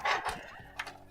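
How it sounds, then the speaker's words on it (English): A Toshiba P300 1TB hard drive slides into a drive bay with a short scraping rush, then a small mechanical click as it seats, close and brief. "And it just slides right in, clicks."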